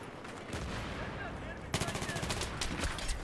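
Gunfire in the video game Battlefield 3, rapid bursts of automatic shots rattling out after a quieter opening, growing denser and louder in the second half.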